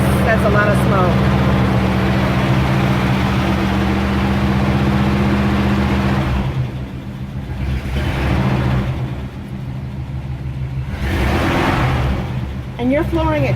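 A car engine runs steadily, then revs up in two or three surges before settling back, loud and close, with voices talking over it in a smoky setting.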